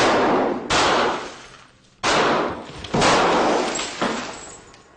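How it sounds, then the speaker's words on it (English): Four loud gunshots from a 9mm Beretta firing hollow-point rounds into laminated glass panes at a gun range, each a sharp crack with a long ringing decay, spaced irregularly about one second apart. "pumping bullets into panes of treated and untreated glass"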